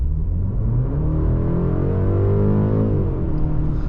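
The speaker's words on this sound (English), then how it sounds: "Maybe we'll take this time to do another full acceleration." A 2024 BMW 530i under full acceleration, its engine note rising steadily in pitch as it revs, heard loud and close from inside the cabin with a continuous droning rumble and no talking.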